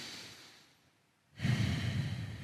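A single deep breath during a pigeon pose stretch: a soft, fading exhale trails off into near silence, then a louder, rushing breath starts sharply and carries to the end, close and alone.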